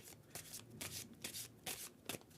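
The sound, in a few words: tarot cards being shuffled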